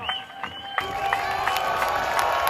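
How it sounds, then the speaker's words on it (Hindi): A large crowd at a public rally for Imran Khan claps and cheers loudly, the applause swelling into a dense, continuous roar of hands and shouting after a brief opening. "आप सबके पुरजोर इस्तकबाल में हाथ उठाकर तालियों की गूंज में इस्तकबाल कीजिएगा"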